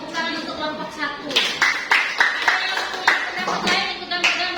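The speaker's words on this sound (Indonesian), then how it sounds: "Oke, tepuk tangan untuk kelompok 1" Classroom applause for a student group after a soap-making chemistry lab presentation: a dozen or so loud, rhythmic unison claps from students, near and distinct, with voices chattering underneath.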